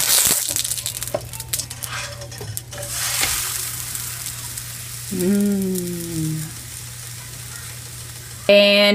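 Pancakes frying in a pan, a soft steady sizzle with scraping and clinking from a utensil, then a brief squeaky tone and a sharp clink at the end.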